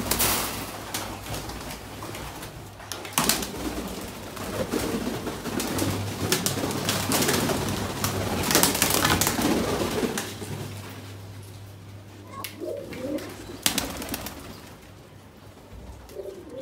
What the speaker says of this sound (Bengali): এবার আমি এই কবুতরগুলো ছেড়ে দিই